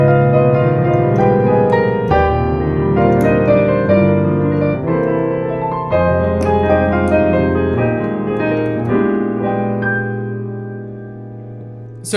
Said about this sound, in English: it is actually going to be arpeggiation